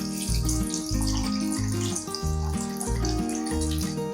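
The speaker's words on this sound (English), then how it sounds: "we're gonna measure out 150 grams of room temperature water." Room temperature water pours steadily from a tap into a bowl on a kitchen scale while bread dough is prepared, a continuous close splashing stream.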